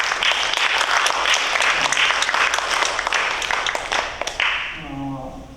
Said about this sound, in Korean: 우리 축하하고 환영한다라고 박수 해주시겠습니다